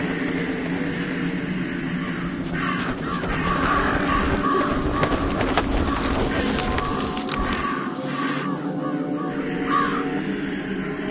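Crow cawing in the video game Jenny LeClue, set in a graveyard by a dead tree, with harsh calls over a steady, busy game background of ambient sound.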